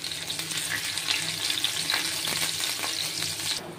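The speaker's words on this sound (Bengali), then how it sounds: "সামান্য একটু গরম মশলা ফোড়ন দেব, একটু দেব পেঁয়াজ সম্বারা" Garam masala and onion tempering in hot oil for a lightly spiced home-cooked dish, a steady close sizzle and crackle running throughout with faint scraping of a utensil in the pan.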